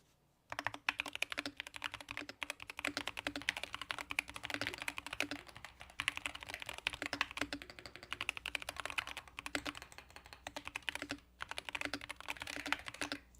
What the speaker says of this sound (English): listen to the typing on this